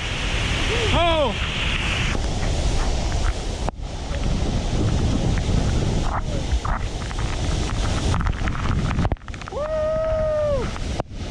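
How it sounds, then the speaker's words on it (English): Roaring waterfall at Shellburg and Stassal Falls, a loud, continuous broadband rush of water close by, with a voice exclaiming over it and a brief bird-like call near the end. "the pressure of this waterfall is just hitting me in the face"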